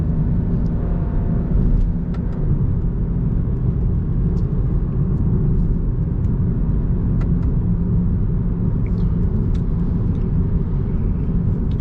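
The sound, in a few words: BMW E92 335is DCT engine and exhaust burbles while driving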